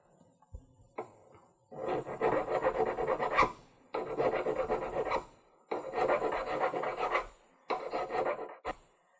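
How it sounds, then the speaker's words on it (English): A hand file rasps against the inside of a metal ring at a jeweler's bench in four long rhythmic bursts of scraping strokes, close and clear, separated by short pauses. "the first thing I always do is file the inside"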